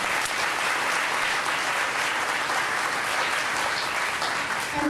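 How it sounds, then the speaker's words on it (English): Audience applause at an awards ceremony for nominees, a dense, steady wash of many hands clapping that holds evenly throughout without a break. "Please, a round of applause for these nominees."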